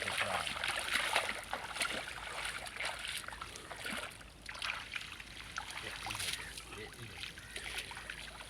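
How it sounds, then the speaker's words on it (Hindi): Water of the Sindh river flows and trickles close by, with soft splashes and gurgles over a steady rushing wash, quiet and continuous. "ये दरिया है सिंध बाबा।"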